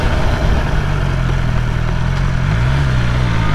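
A BMW S1000R Sport motorcycle engine runs steadily and loudly up close, a constant droning rumble that rises slightly in pitch near the end, with wind noise over it.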